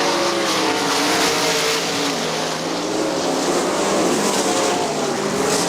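Sprint cars roar down the backstretch at a speedway during an outlaw sprint series race, a dense, loud engine wail that sweeps slightly in pitch as the cars pass, continuous throughout.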